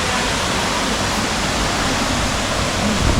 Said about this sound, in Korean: 저 멀리서 이제 폭포도 보입니다.